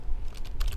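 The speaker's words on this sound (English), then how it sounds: "You're then gonna type in apt-get" Typing a command into a Kali Linux terminal on a computer keyboard, a short burst of close, quick clicky keystrokes with no voices.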